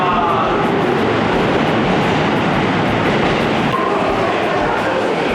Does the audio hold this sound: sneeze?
no